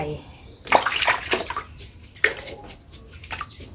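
Custard apples are washed by hand in a basin of water to remove mealybugs, with close splashing and sloshing bursts and light drips between them.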